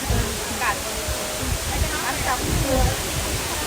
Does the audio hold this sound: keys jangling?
no